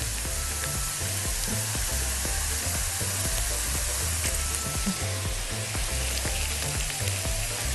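Garlic and coriander frying in hot fat for Lebanese molokhia, a loud, dense, continuous sizzle with faint crackles, close up and with no voices.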